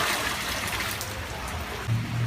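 Rain falls steadily as a dense, even hiss of drops on a surface, moderately loud and continuous, with no voices.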